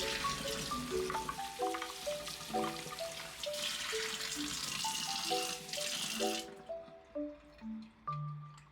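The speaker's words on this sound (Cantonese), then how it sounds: "我會加水去浸佢15分鐘" Water pours and splashes steadily into a container of dried yam for soaking, for several seconds beneath a light melodic tune, then stops while the music continues alone.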